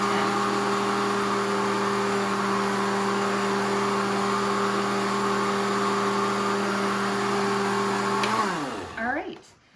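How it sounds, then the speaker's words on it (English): Blender whirring through popover batter in a home kitchen, a loud steady motor drone with strong tonal hum sustained for about eight seconds, then winding down as the motor slows. "So now we'll blend it maybe another 10 seconds or so."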